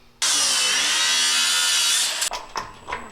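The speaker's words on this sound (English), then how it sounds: "We got to grinder this and weld a washer on it." A power grinder works on truck metal up close, a loud steady high whine for about two seconds that then cuts off, leaving a few scrapes and clunks.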